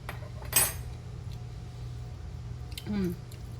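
A fork and other cutlery clink against dishes in a kitchen, two short bright clatters a couple of seconds apart over a low steady hum, with no talking.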